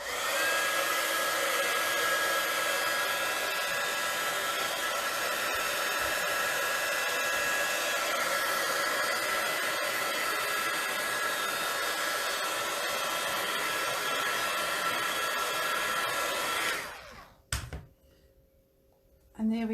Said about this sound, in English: I can lift it off and then dry it with a heat gun.